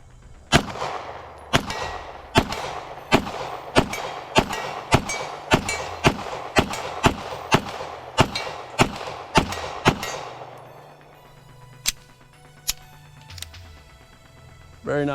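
Rapid series of about fifteen loud, sharp pistol shots from a Beretta 92 fitted with a GG92 compensator, fired in quick succession at close range, with a few slower spaced shots trailing off at the end.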